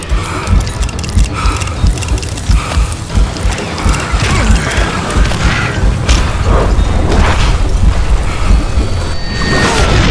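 Explosive blasts in the Western shooter game Call of Juarez: Gunslinger, a dense, loud stretch of booms and debris rumble with crackling mechanical clatter running continuously throughout.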